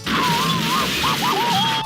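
Emma Woods smashes a rocket chair in Identity V, a loud sustained crash of breaking and clattering debris with a wavering tonal whine running through it, alone without talk.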